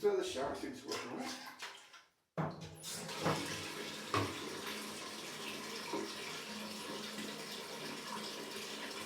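A portable rechargeable USB camping shower runs, spraying a steady hiss of water that cuts off briefly, then resumes with faint splashing against the running stream.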